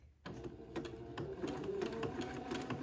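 A sewing machine zigzag-stitches small lace onto entredeau for a baby dress cuff, running slowly with a steady rapid chatter of needle strokes that starts abruptly and carries close and clear to the end, with no talking.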